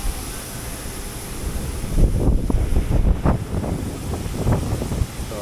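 Wind gusts buffet the microphone on an open airport apron, a steady low rumbling roar that swells and flutters throughout, heard alone.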